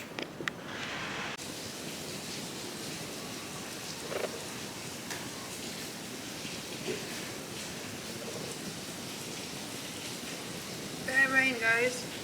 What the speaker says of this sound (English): Bare rain, guys.